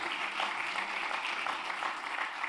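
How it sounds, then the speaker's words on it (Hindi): Audience applause at an honouring ceremony held by a charitable service committee: a continuous, even wash of many hands clapping at moderate volume, with no voices rising above it. "तालियां बजानी चाहिए आपको इन सभी के लिए।"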